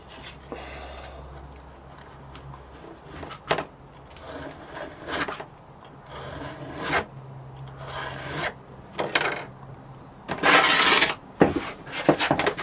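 A scraper scrapes sand off a silver sand-casting mould in a series of rough rasping strokes, some short and some longer, close by with quiet gaps between them, and no talking.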